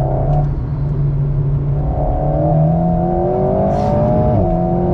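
A well-balanced car driven on a track, its engine revving and accelerating loudly through the gears with rising tones and a brief dip near the end, heard from inside the car.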